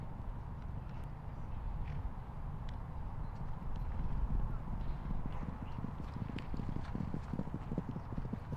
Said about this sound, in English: Lot 9, first crop here of Inns of Court, filly from Tallyho Stud